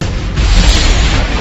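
A bomb explodes in a dubbed Indian action film, a loud, sustained low rumbling boom that swells after a brief lead-in and rolls on without dying away.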